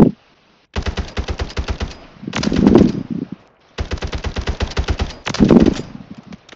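Gunfire in Warzone 3 Plunder mode with a weapon set to single-shot: two long strings of close, loud, evenly spaced shots fired in quick succession, each string followed by a heavier rumbling blast, separated by brief pauses.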